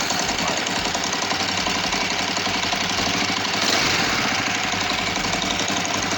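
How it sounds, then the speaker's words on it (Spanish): A cold Kawasaki Vulcan 500 motorcycle engine, with carburetors under repair, runs at a steady idle, giving a continuous close rumble with fine knocking pulses and no voices. "Venga, vamos a arrancarla a ver"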